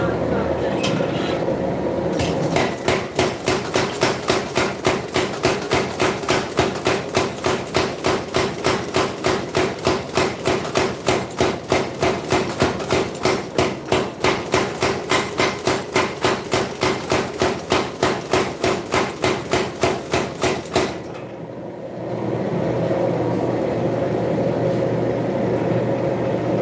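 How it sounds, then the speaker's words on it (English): Mechanical power hammer forging a wakizashi short sword blade, pounding in a fast steady rhythm of loud, close, repeated blows for about twenty seconds before stopping, with shop noise before and after. "Going back to the power hammer"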